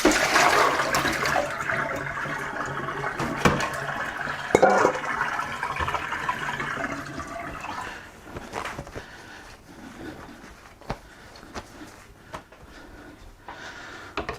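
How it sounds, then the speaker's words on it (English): Ice water is poured off a pat of homemade cultured butter into a sink, a loud rushing splash and gurgle for several seconds that tapers into dripping and small clinks. "Let me just get rid of this ice water."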